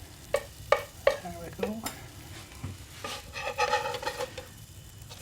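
An oatmeal and treacle pancake frying in a pan gives a soft sizzle with several scraping spatula strokes as it is turned over, and a voice speaks briefly.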